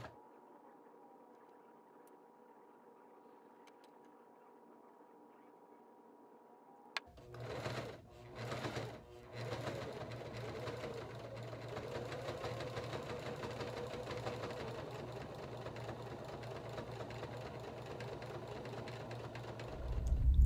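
A powerful Tandy Leather sewing machine stitching a leather moccasin starts after a quiet stretch, first in a few short bursts and then running steadily, loud and close, with no voices.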